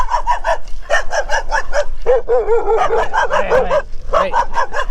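Small dogs yap and bark rapidly in excited bursts at a passing cyclist on a rural road in Thailand, loud and close, with some whining yips mixed in.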